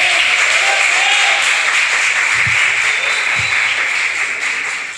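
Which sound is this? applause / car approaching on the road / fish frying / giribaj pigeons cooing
applause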